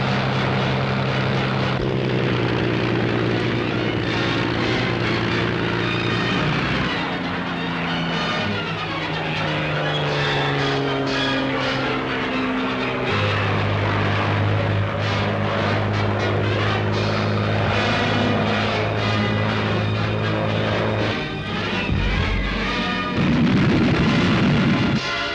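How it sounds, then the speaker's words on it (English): Royal Air Force fighter planes of 1940 roar overhead in steady, loud propeller engine drone, with pitches shifting and sweeping as the aircraft pass. A burst of louder rumble near the end, no talk. "Top fighters of the Royal Air Force go racing into action."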